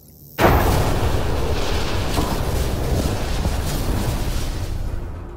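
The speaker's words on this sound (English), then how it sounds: "They actually blew up a derelict for that shot." Derelict ship explosion in the video game Mass Effect Andromeda: a sudden loud boom bursts in after a brief quiet, then a dense, roaring rumble of debris and fire sustains steadily for several seconds.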